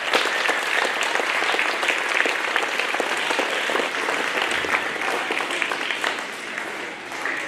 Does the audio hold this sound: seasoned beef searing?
no